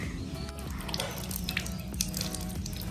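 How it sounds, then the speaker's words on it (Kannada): Water poured and splashed over a car being washed outdoors, a continuous close rush of running water with small drips and spatters throughout. "ಮದ್ಮಲ್ಲ ಕಾರ್ ನೀರು ಪಾಡ್ಲಿ"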